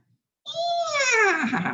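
A person's voice imitates a horse neigh, giving one short whinny-like call with a high, wavering pitch that slides downward.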